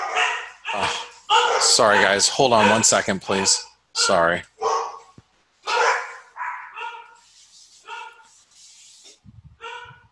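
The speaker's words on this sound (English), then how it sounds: "Excuse my dogs." Several dogs bark and yip repeatedly at home, the barking mixed in with and partly covered by someone talking and apologizing over it.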